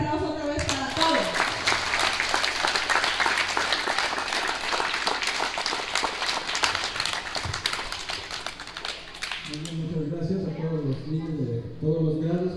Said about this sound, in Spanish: Que se escuche fuerte el aplauso otra vez para todos.